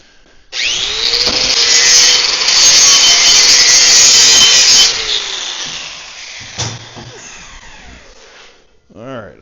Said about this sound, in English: we'll just file that down, grind that down just a bit